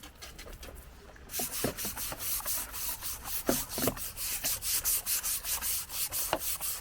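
A bristle brush scrubs back and forth in steady rhythmic strokes, close and fairly loud, after a few seconds of quieter scraping at the start.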